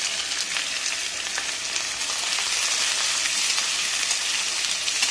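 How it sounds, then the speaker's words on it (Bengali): Chopped onion sizzles loudly and evenly in a hot pan for pasta, a dense continuous crackle with no talk. "প্রথমে পেঁয়াজ কুচিটা দিয়ে দিচ্ছি"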